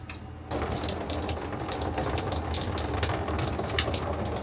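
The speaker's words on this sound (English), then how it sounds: "Now I'm checking out the shower and see if it's got hot water." Shower water runs inside a Coleman 13B camper, a steady hiss and splash that starts abruptly after a half second of quiet and continues strongly to the end.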